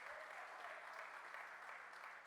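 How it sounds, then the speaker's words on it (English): Applause from the audience at a public political meeting, a steady soft wash of clapping heard faintly and at a distance, continuous throughout. "Let us give them a round of applause"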